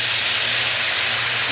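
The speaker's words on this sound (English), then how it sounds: "that's going to steam up" Loud, steady steam hissing from a cooking pot of water and chicken bouillon, a broad airy rush close by with a low hum beneath.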